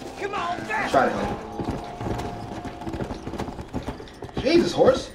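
Horse hooves clip-clop in Red Dead Redemption, with a steady walking rhythm running under game ambience and a brief whinny-like burst near the end, while people talk over it.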